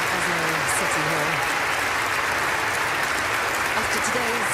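Thunderous applause from assembled guests in Oslo City Hall at a Nobel Peace Prize ceremony, a dense, continuous roar of clapping, with a commentator's voice faintly underneath.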